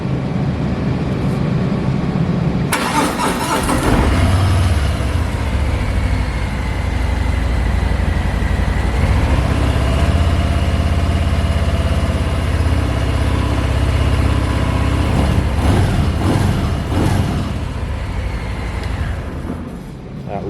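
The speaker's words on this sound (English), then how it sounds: "That light roar from the stock exhaust, beautiful sound." A 2022 Harley-Davidson Softail Fat Bob 114 with stock dual exhaust idles in a low, steady rumble that runs close and loud the whole way, with a brief rise in revs partway through and a voice talking over it.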